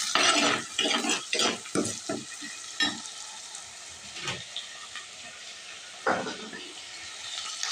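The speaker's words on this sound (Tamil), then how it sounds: "நல்லா கம்மன்னு வெள்ளைப்பூடு, சின்ன வெங்காயம், பச்சை மிளகா, கருவேப்பிலை, வெந்தயம் சோம்பு எல்லாம் நல்லா வதங்குது." Garlic, shallots, green chillies, curry leaves, fenugreek and fennel sizzle loudly while being sautéed in a pan, with bursts of crackling and stirring scrapes that ease into a steadier, quieter fry.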